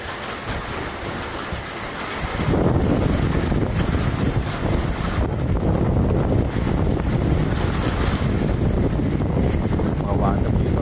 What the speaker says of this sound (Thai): ลมแรงนะครับลมแรง